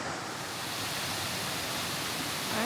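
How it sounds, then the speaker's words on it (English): A waterfall in a small fern-lined cave on Maui, a constant broadband rush of falling water filling the space, steady and even, with a faint brief voice-like sound at the very end. "there's our waterfall"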